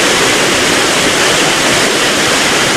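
Steady, loud roar of Changey waterfall in North Bengal, dense broadband rushing water close by with spray, continuous and unbroken, no voices.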